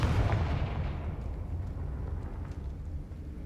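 A Confringo fire spell cast in the Hogwarts Legacy video game, a loud booming blast that bursts at the start and rolls into a dense, rumbling fiery roar, fading slowly over several seconds with no talking.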